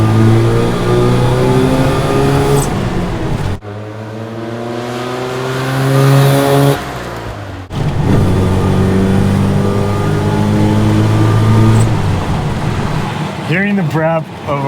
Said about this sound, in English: Hearing the brap of a rotary engine from a 1970s car